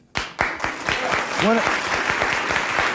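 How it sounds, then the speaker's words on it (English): Loud studio audience applause erupts after a few sharp lead claps, dense and sustained, with a voice and a brief whoop or call rising over the clapping. "See, that's just applause. That's not laughing at his joke."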